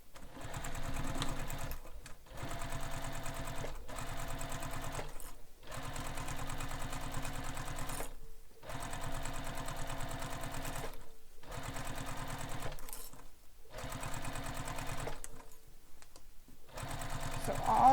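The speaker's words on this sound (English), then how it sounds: "now I'm going to sew this using the seam allowance given in the pattern" A sewing machine stitches a seam on a handbag panel, running in long steady bursts separated by short pauses, loud and close with no talking.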